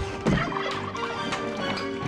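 A turkey gobbles in a short, busy burst near the start, then keeps up a rough warbling through a dense layer of background sound; no one speaks.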